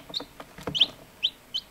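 Chickens and newly hatched chicks making short, bright chirping calls, several separate peeps close by over a quiet background.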